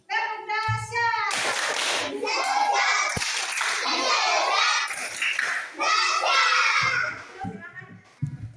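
Children in an Indonesian classroom do a rhythmic 'tepuk dahsyat' clapping chant, quick patterned claps mixed with kids' voices and shouting, loud and close throughout.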